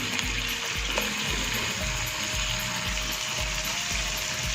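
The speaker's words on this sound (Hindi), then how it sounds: "अब मैं इसे स्पून की हेल्प से मैश कर लूँगी।" Soft tomatoes are pressed and mashed with a spoon in masala frying for a quail curry, with steady sizzling throughout and rhythmic low thumps of the spoon against the pan, close and continuous.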